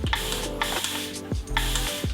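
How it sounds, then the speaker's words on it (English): A refillable continuous spray bottle filled with water releases two sustained mist bursts, each opening with a soft pump click and then hissing steadily for about half a second at close range, with no voices. "it will do continuous spray for you as well"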